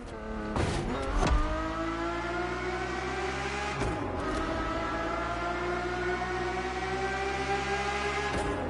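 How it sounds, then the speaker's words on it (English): Ferrari F50 with a naturally aspirated V12 in The Crew Motorfest, a steady loud engine drone with rising harmonics and two brief gear-change dips, the tone climbing smoothly throughout. "The F50's core is a normally aspirated V12 that came straight from a Formula One."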